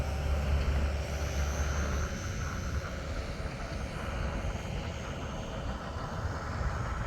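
A Hobby Zone Super Cub RC model airplane flying with its small electric motor barely idling, a steady soft propeller whir under outdoor wind noise, continuous and moderately close.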